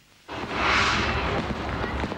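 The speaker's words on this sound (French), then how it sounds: "Des feux d'artifice." Fireworks from the Disney park near the small town of Chessy boom in with a sudden loud broadband burst that swells and keeps rumbling and crackling for about two seconds.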